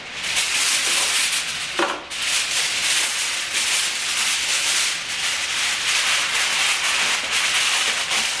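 Crinkly rustling of heavy-duty aluminium foil being handled while lining an old tray runs continuously, with a brief sharper crackle partway through; no talking.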